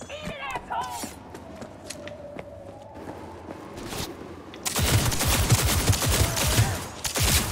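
Rapid gunfire in the video game Cyberpunk 2077 bursts out in the second half, a dense stream of close shots following quieter footsteps and game ambience, with someone speaking over it.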